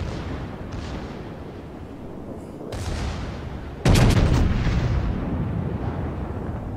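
Naval cannon fire from a cruiser in the World of Warships video game, a few heavy booming salvos with rolling rumble, the loudest blast near the end followed by a sustained roar.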